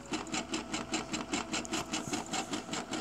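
A Brother SE400 sewing machine stitches at close range, its needle thumping in a quick, steady rhythm of evenly spaced pulses over a constant mechanical whir, with no voices.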